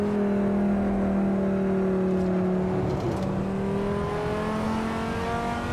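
A 1995 Dodge Viper RT/10 in Assetto Corsa on the Nordschleife, its engine droning steadily with clear rising and falling harmonic tones as it holds and shifts through revs, loud and continuous with no talking.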